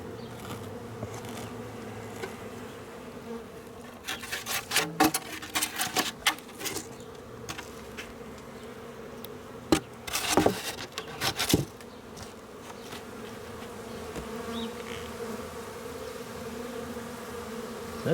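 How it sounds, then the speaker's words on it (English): Honeybees buzz and fan at a beehive entrance while the winter wrap is removed, a steady close hum with louder passes as individual bees fly near, plus occasional handling rustles. "One of the bees is fanning at the entrance there."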